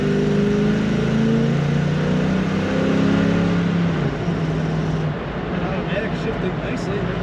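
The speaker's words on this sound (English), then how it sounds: "Nice acceleration in this truck." A 1977 Chevrolet K5 Blazer Cheyenne 4x4 with an automatic transmission accelerates, its engine droning and rising in pitch before easing off as it shifts, heard from inside the cab.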